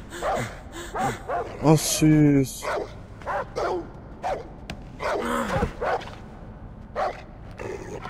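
Dogs barking and yelping in the video game Far Cry 3, several sharp repeated barks and whimpers, with someone talking over them.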